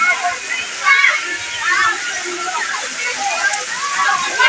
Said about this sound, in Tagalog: Ula naman sa liwat.